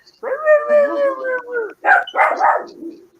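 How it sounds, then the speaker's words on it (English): A small dog barks in a drawn-out, whiny yowl followed by a few sharp yips, close and loud, with no talking. "How could such a cute dog have such a stupid bark?"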